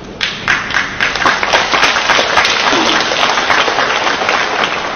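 Audience applause filling a lecture hall at Peking University's Centennial Hall, dense steady clapping that swells quickly and holds strong for several seconds.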